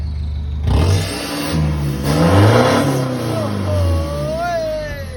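A 2021 four-door 1.9-litre pickup truck with an aftermarket exhaust revs up close by, with two rising engine surges that fall back to a throbbing idle.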